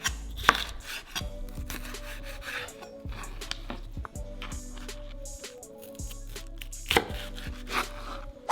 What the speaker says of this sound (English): So we're all done chopping up the peppers.